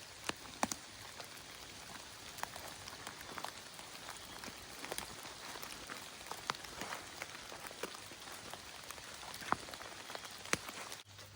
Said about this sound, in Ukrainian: помилуватися цим тихим дощем